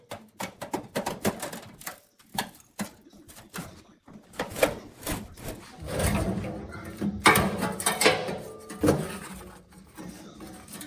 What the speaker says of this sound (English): With the parts manufactured, I can now remove the remaining rusted metal.